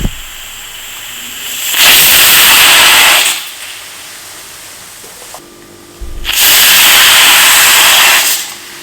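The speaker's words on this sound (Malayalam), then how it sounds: "അപ്പം നമുക്ക് 20ാമത്തെ വിസിലും വന്നു" Two long, loud bursts of hissing steam from a pressure cooker whistle while cooking rice, each lasting over a second, separated by a quieter gap with faint background noise.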